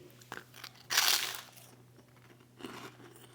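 Fried pork skin snacks crunched up close: a sharp, loud crunch of a bite followed by quieter crackling chews and another crisp crunch near the end, with no talking.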